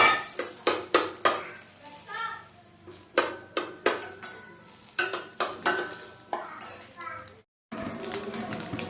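Cauliflower tipped into a pan and stirred with a utensil for an egg and cauliflower dish, with a run of sharp metallic scrapes and clinks in an uneven rhythm, a brief gap, then a softer steady sizzle.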